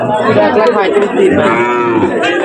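A cow lets out a loud, drawn-out moo close by at a cattle market, with the murmur of a crowd in the background.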